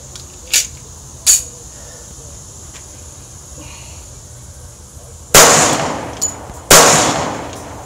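Girsan 1911 pistol fired with new magazines, several sharp, loud gunshot cracks spaced irregularly, with two quieter reports early on and heavier shots near the end, outdoors and close.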